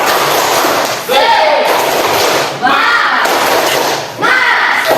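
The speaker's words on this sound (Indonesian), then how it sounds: "Tepuk semangat." A classroom group of schoolchildren claps a rhythmic spirit-clap pattern in loud, dense bursts, with shouting voices mixed in over three repeated rounds.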